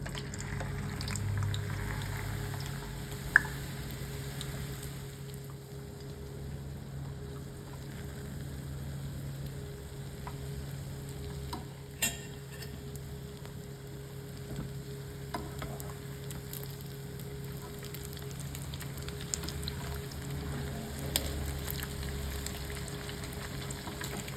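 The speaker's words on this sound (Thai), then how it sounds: "ตอนนี้นะคะเราก็ทอดจนไข่เจียวเนี่ย กรอบดีแล้วนะคะ" Omelette of beaten eggs deep-frying in plenty of hot oil in a pan, a steady soft sizzle and crackle running throughout with a low hum underneath, with no talking.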